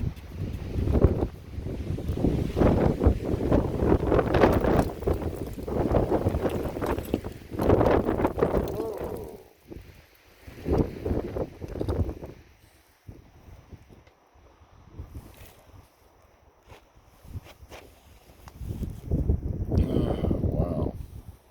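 Strong gusting wind buffets a microphone outdoors beside a vehicle, loud rumbling bursts rising and falling over about twenty seconds, with calmer gaps between gusts.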